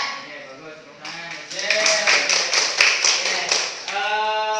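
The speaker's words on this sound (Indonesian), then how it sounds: "Tepuk tangan." A group of children clap their hands together in a classroom, a burst of rhythmic claps in the middle with voices talking before and after.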